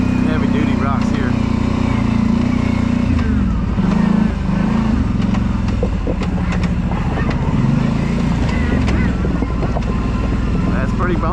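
Kawasaki Brute Force 750 ATV on Elka shocks crawling over big heavy-duty rocks, its engine droning steadily and close with wind buffeting the mic and scattered knocks and rattles from the rough ground.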